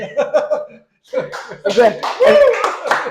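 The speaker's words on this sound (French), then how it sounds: "C'est temps d'applaudir là." An audience claps and cheers for a guest introduced on stage, scattered applause with laughter and voices, thin at first, then swelling fuller and louder.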